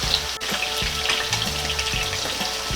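Potato pieces fry in very hot cooking oil, a steady close sizzle and bubbling hiss that runs without a break.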